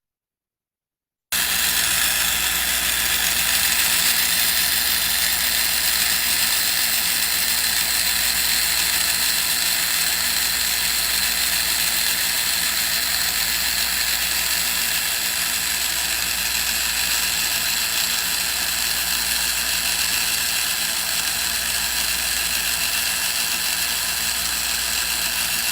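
A Merlin2 mini angle grinder with a carbide cutter disc carves a wooden spiral hollow form, a continuous loud high whine and rasp that runs steadily and close with no talk.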